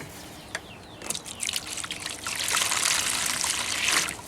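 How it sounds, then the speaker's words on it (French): A small amount of water is poured in a kitchen, a gentle trickle that builds into a steady splashing stream after a few faint drips and knocks. "Donc là, ce qu'on va faire, on va mettre un peu d'eau."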